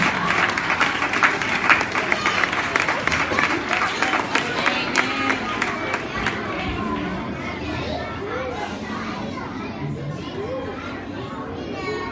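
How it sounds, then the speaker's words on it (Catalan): A school audience claps for a fifth-grade pupil winning first prize in a poetry contest, a burst of loud, dense applause that gradually thins and fades, with children's chatter and voices mixing in toward the end. "Un aplaudiment."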